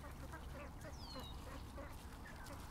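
Farm ducks kept in a pen near a creek quack in a short, faint burst over steady background noise, with a thin higher call sliding briefly across the middle.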